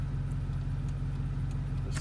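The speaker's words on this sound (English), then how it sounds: "Truck's running." A Cadillac Escalade or Chevrolet Tahoe truck engine runs at a steady, quiet idle, a low continuous hum with a faint click or two and no talking.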